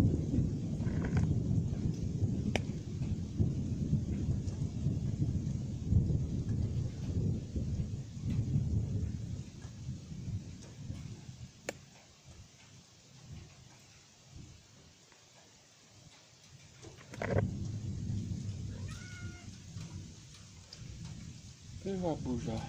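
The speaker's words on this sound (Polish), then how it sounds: "Ty też się boisz burzy?" A thunderstorm brings steady rain and low rolling thunder that is loudest at first, eases in the middle, then swells again with a sharper burst and a few faint voice-like sounds near the end.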